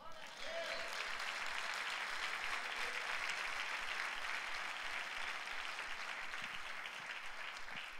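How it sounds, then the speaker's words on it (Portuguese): A church congregation applauds, a broad, sustained wave of clapping that stays even and fairly distant for several seconds, with faint voices rising within it. "Você pode dar um aplauso a Ele?"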